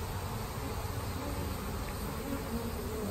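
Honeybees crowd a swarm trap box that has been left up too long, giving a dense, steady, close buzzing hum with no pauses and no voices.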